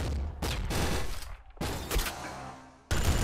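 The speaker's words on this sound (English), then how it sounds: "What is this, scrap cannon?" Scrap cannon in the top-down shooter Nuclear Throne fires in loud, abrupt bursts of rapid blasts, three or four volleys with short gaps between them.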